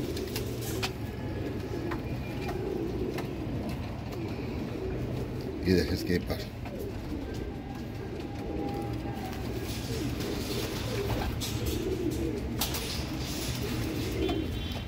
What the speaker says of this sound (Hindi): ये देखो दोस्तों ये रंगीन कबूतर सारे सारे ये ओरिजिनल कबूतर है दोस्तों इंडियन।